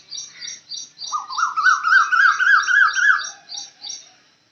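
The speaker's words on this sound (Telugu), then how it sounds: "మన గార్డెన్లోకి చాలా రకాల బర్డ్స్ వస్తాయండి. వినండి ఎంత బాగున్నాయో సాంగ్స్." Birds sing close by in a village garden, with a rapid series of repeated high chirps over a longer rising and falling warbled phrase, clear and loud against a quiet background.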